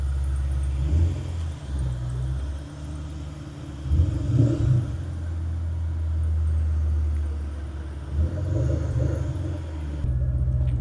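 A Ford Mustang with a dumped exhaust rumbles deeply at idle, then gives a few short revs that swell and fall back, loud and close with no voices.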